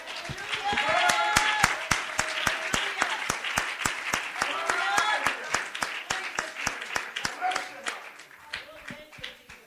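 A church congregation claps steadily in praise, a dense, even rhythm of many hands sustained for several seconds, with voices and music woven underneath.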